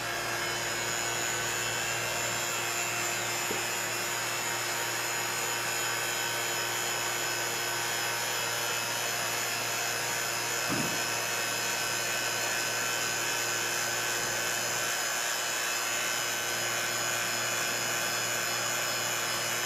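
A vacuum pump drones continuously with a steady high-pitched whine and low hum, unchanging throughout, with a couple of faint clicks.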